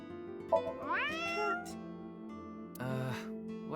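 A video game character imitates a cat with drawn-out human meows directed at a lucky cat statue, two separate meows close and clear.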